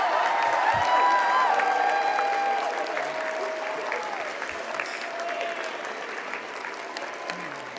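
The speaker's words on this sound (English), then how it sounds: "Now let's give those folks a round of applause" Sustained audience applause fills a convention banquet hall, steady dense clapping that slowly thins toward the end, with faint tonal feedback or music lines above it and no clear talk.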